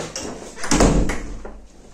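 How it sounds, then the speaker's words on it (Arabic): A door pushed shut in a home, a single solid thud with a short rattle and room ring, close by and fairly loud, with faint movement around it. "سدي الباب موراك."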